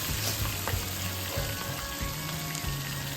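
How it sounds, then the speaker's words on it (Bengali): Marinated prawns, salted and coated in turmeric, sizzle and fry steadily in hot mustard oil, a close, continuous crackling hiss with occasional stirring. "তারপরে আমাদের ম্যারিনেট করে রাখা মানে নুন হলুদ মাখিয়ে রাখা চিংড়ি মাছগুলোকে অল্প অল্প করে দিয়ে"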